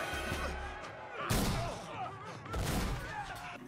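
Gunfire in a Black Sails pirate-drama scene: two loud, broad blasts about a second apart, with rumbling and faint voices in the background.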